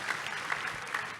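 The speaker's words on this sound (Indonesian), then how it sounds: "Kasih tepuk tangan yang meriah untuk Tuhan Yesus." A church congregation applauds during a Sunday sermon, a steady spread of hand clapping at moderate distance with no voices over it.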